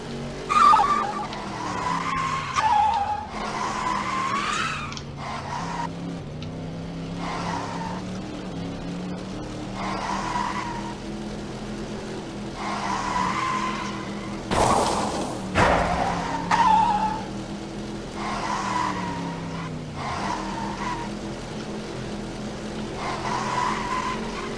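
Cartoon race cars in Cars The Video Game engine-whine and skid with repeated tire squeals, loud and continuous throughout, sliding through turns with rising and falling pitch and a few sharp bursts.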